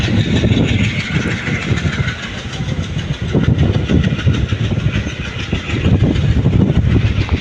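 A passenger train runs on the Madurai to Rameshwaram line, heard from on board as a loud, continuous rumble with rhythmic wheel clatter and engine drone throughout.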